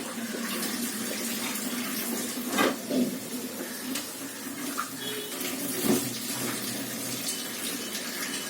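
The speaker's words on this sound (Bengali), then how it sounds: "জল দিয়ে ধুয়ে দেবো আমি।" Tap water runs steadily into a kitchen sink while something is rinsed under it, with a few brief clatters and splashes over the constant flow. The sound is close and there is no talk.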